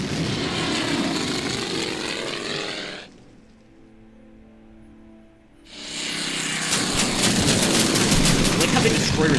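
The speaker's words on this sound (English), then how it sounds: "I like how the destroyer is able to fire his AA guns, in between turns, sort of as reactionary fire" Destroyer firing its anti-aircraft guns in the wargame Order of Battle: Pacific, set at Pearl Harbor, with loud rapid gunfire and aircraft engine noise, breaking off for a quiet stretch midway before resuming.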